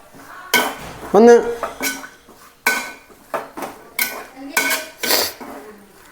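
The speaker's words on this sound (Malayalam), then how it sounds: "നന്നായിട്ടൊന്ന് ഇളക്കി കൊടുക്കാട്ടോ" A metal utensil stirs egg with pepper and sauce in a pan, producing a series of distinct clanks and scrapes against the metal at an uneven rhythm, loud and close, with a brief voice heard.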